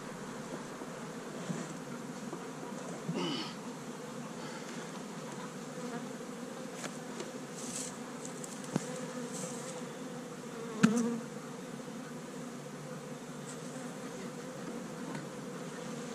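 A steady, dense buzzing of many bees around a hive in an apiary, close by, continuous and droning, with a few faint knocks and clicks.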